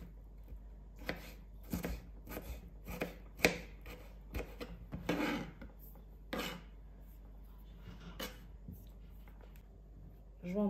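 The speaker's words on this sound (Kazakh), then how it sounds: "Жуамызды турап аламыз." Onion sliced with a knife on a board in a home kitchen, giving a series of irregular, close, crisp chops and cutting strokes at a quiet level.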